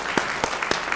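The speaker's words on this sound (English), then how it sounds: "Round of applause for Father Jonathan." Sparse, separate claps sound at a book awards ceremony, a few distinct hand claps spaced about a quarter second apart over a soft background murmur.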